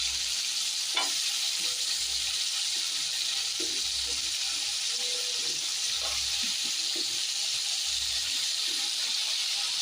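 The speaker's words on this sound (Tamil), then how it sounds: "இது நல்லா இந்த எண்ணெயிலே வதக்குவோம்" Brinjal and drumstick pieces sauté in oil with onion and tomato in a pan, a low continuous sizzle with occasional soft scrapes and taps of stirring, fairly quiet and steady.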